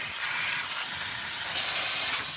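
Compressed air hisses steadily as it blows dust and spiderwebs out of a Dell Dimension XPS T500 desktop computer, a close, loud, unbroken broadband rush lasting the whole moment.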